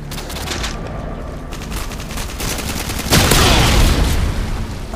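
Grenade launcher blasts and gunfire in Modern Warfare 2 Domination multiplayer, a dense steady barrage of shots with a louder burst of explosion noise rising partway through, no talking.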